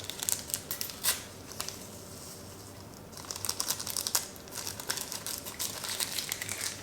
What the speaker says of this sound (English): 2 more packets of stevia.